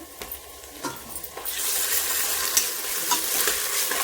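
Ginger garlic paste sautéing in a pan, with a few soft stirring taps before a steady, close sizzle swells up and holds to the end.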